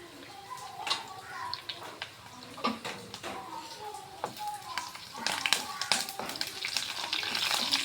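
Crushed garlic frying in a pan, a crackling sizzle that builds toward the end with scattered clicks and scrapes of a utensil, while a voice speaks over it intermittently.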